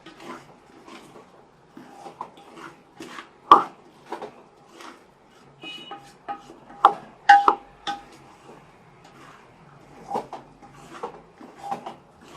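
A chicken roll filling with pizza sauce, chili sauce and soy sauce is stirred and mixed, producing irregular close clinks, taps and soft scrapes of a spoon against a bowl, with some louder knocks.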